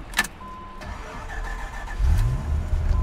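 A 1995 Dodge Viper RT/10 starts up: a brief click, a short whirring crank, then the engine catches with a low rumble that settles into a steady idle, close and clear with no speech.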